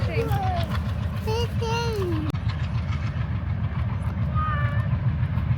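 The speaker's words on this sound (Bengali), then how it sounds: "আসছে বড় একটা ট্রেন" A large train rumbles past nearby with a steady low roar and rolling clatter, while children and adults talk excitedly over it.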